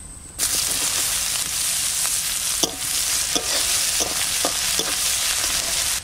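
Cumin, dried chillies and onion fry in hot oil in a kadai for a fish curry, giving a steady, loud sizzle throughout with several sharp clinks and scrapes of stirring.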